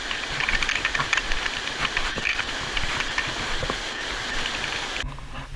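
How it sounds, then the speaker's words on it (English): Strong wind roars and buffets on an open Patagonia trek on the O Circuit, a loud continuous rushing with low gusty rumbles that drop away in the final half second. "It's really windy"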